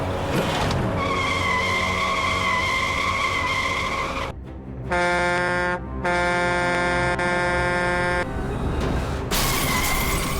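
Racing game car skidding with a long tire-squeal screech and horn-like tonal blasts, loud and continuous, breaking off briefly before resuming with steady electronic tones and then a noisy crash-like burst.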